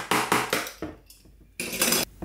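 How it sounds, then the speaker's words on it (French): Beaten egg whites scraped off a metal whisk for white chocolate macarons: a run of bright scraping and clinking strokes, close and fairly loud, broken by a short pause, with no voices. "je viens donc récupérer ce qui me reste sur le fouet"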